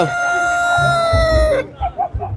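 A bantam rooster at the Muktsar horse fair in Punjab gives one long, loud, close crow. Short clucks and nearby voices follow.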